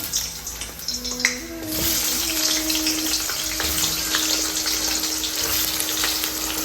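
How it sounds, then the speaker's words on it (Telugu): Bitter gourd pieces dropped into hot oil for deep frying give a steady, close hiss of bubbling oil that swells after a sharp splash, with a faint low hum running underneath. "ఆయిల్ హీట్ అయిపోయింది సో ఇవి నేను దీంట్లో డీప్ ఫ్రై చేసేస్తున్నాను"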